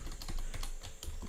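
Code is typed into a computer keyboard in a quick, close run of key clicks, heard alone with no talking.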